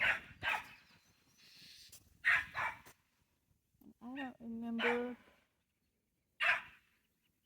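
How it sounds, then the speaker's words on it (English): A dog gives a few short, sharp barks and yips in a quiet garden, with brief pauses between them and a person speaking softly nearby. "My dog is seeing the birds."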